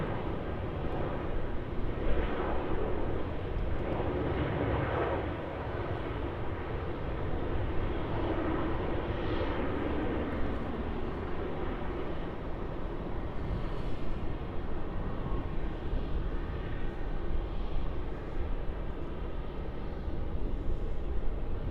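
A jet airliner decelerates on runway 34 at Melbourne Airport, a broad steady roar of engine and rushing air that holds at a fairly constant level for the whole stretch, heard from a distance with no voices.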